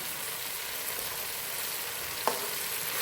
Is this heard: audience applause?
no